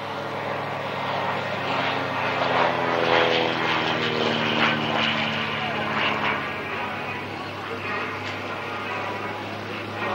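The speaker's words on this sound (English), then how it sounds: "Dave Southwood once again, the P2, another strafing run." A World War II warbird propeller aircraft on a low strafing run at a 1994 airshow at Wroughton Airfield, its engine drone loud and sustained, swelling mid-pass, with a commentator talking over it.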